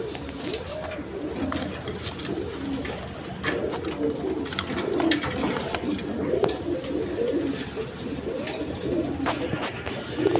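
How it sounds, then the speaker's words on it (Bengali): A pair of large Giribaz pigeons, a running breeding pair, coo steadily in low, repeated rolling phrases, close and continuous against faint background noise. "এখানে এক পেয়ার গিরিবাস কবুতর আছে দেখেন"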